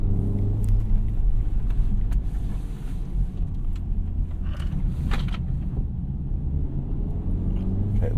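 An Acura Integra Type S fitted with a Civic Type R damper module drives a tight figure 8, heard from inside the cabin as a steady low engine and road rumble with occasional light rattles.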